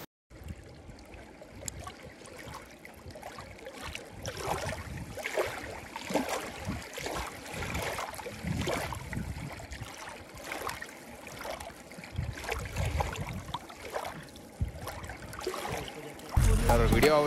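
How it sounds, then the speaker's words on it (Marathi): Water flows steadily at a dam near Harishchandragad in the hills, a broad rushing wash heard close and continuous with scattered splashes and a louder surge at the very end. "कानात हेडफोन टाका आणि पाण्याचा आवाजाचा फील घ्या"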